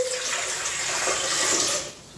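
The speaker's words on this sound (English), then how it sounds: "So, 688 milliliters of water in the bowl." Water pours steadily into a bowl while pizza dough is being made, a continuous close splashing rush that tapers off near the end.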